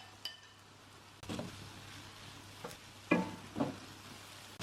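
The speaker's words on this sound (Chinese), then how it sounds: "这样煸炒的话，更容易释放出西红柿的汤汁" Tomatoes and minced pork stir-fried in a pan give a low, steady sizzle, punctuated by a few scraping stirs of the spatula, quiet and close.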